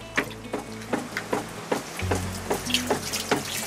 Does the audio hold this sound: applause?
no